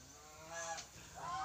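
A farm goose honks a few times in short nasal calls, fairly close, with some soft background noise between the calls.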